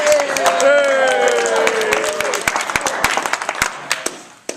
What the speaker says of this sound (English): Clap, hoot, holler, scream. You can do it right now if you want.